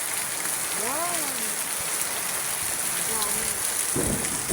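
Heavy rain pours steadily during a low pressure storm in Cavite at night, a dense constant hiss filling the scene, with faint bird-like chirps and a brief voice near the end.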